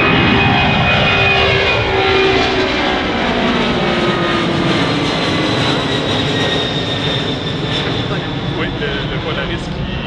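A Royal Canadian Air Force CC-150 Polaris airliner taking off: a loud, sustained jet engine roar fills the whole stretch with a steady broadband rumble, no voices over it.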